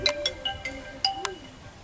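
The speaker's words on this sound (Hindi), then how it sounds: "यही तो हमर बेटी के फोन छिए।" A mobile phone ringtone plays a short run of bright, chiming electronic notes in quick succession, moderately loud and close, with no talking over it.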